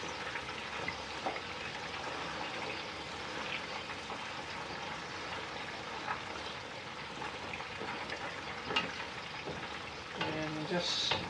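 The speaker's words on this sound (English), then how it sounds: "And I can hear the frying noise." A whole chicken sizzles and crackles steadily in hot oil, a continuous fry with occasional sharper pops and a brief stirring clatter near the end.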